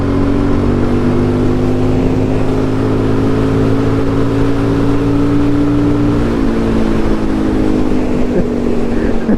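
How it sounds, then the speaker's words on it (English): A truck engine drones steadily close by alongside a Suzuki DRZ400SM supermoto on the road, a loud continuous motor hum with slight pitch shifts and wind noise throughout. "This truck right next to me is trying to race me."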